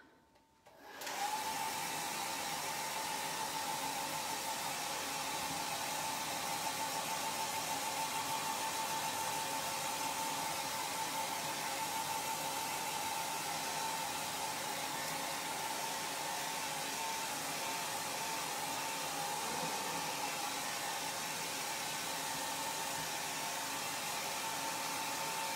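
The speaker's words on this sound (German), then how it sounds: "So, jetzt wird aber geföhnt." A hair dryer blows steadily on a watercolor sketchbook painting of autumn apples, a constant close whooshing hum that starts abruptly and runs unbroken, with no voices.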